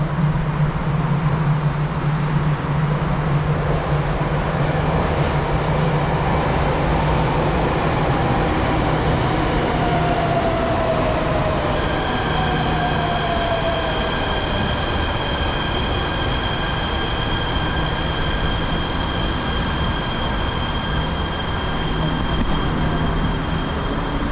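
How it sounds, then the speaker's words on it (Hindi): An MRT metro train pulls into a station platform, a steady loud rumble of wheels and rail noise with a faint squeal and rising tones as it arrives, continuous throughout with no talk. "अच्छा अब ट्रेन आ रही है मैं आपको ट्रेन दिखाता हूँ"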